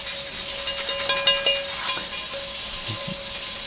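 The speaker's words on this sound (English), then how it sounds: "I'm just scrubbing it with an abrasive" Abrasive scrubbing of a carbon steel pan, a steady hissy rasp with faint rubbing strokes over a running tap, close and continuous.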